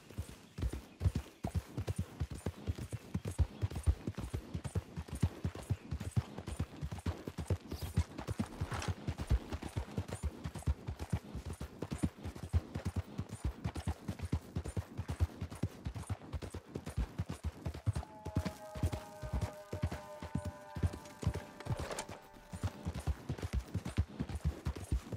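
Horse hooves clip-clop steadily and close throughout a long ride in Red Dead Redemption 2, with dense rhythmic hoofbeats and a brief tonal sound near the end; no talk.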